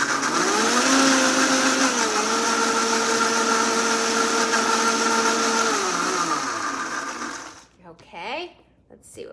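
A blender whirs loudly for about seven seconds, blending cashews and water into cashew milk, its motor pitch dipping and rising slightly before it cuts off and a voice speaks briefly.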